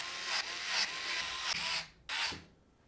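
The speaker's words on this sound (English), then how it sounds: "we'll get the screws securing the bracket to the case in first" A power screwdriver drives screws into a DeepCool CH260 PC case while a radiator bracket is mounted, several short whirring bursts that start and stop in quick succession, close and fairly quiet.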